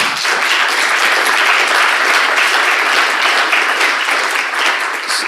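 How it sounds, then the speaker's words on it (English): Loud, steady applause from a conference audience for a panelist at the closing of a long-term care research conference, dense clapping sustained throughout without a break. "I want you to give a big applaud for Marian for his contribution."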